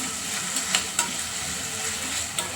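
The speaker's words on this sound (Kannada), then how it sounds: "ಇದು ಅಷ್ಟೇ ಸ್ಕಿನ್ನೆಲ್ಲ ಪೀಲ್ ಆಗೋ ತನಕ ಫ್ರೈ ಮಾಡ್ಕೋಬೇಕು" Ingredients for mushroom biryani fry in a pan, a steady close sizzle with a few soft stirring knocks and no talking.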